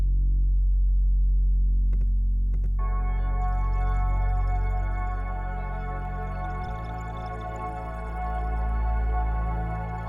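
A deep synthesized bass, sound-designed with the Lunacy BEAM granular plugin, swells in heavy and sustained, joined after a couple of seconds by layered droning upper tones, a dark cinematic texture with no voices.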